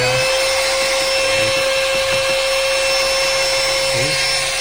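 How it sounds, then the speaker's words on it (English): A Xiaomi Youpin Coclean portable vacuum cleaner runs with a steady, close, high-pitched motor whine throughout, while its brush is worked over a surface and hard-to-reach spots, with faint handling noise beneath. "so you can brush on surface like this one while you're vacuuming"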